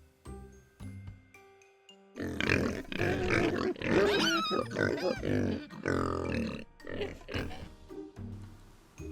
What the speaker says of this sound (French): A pig, un cochon.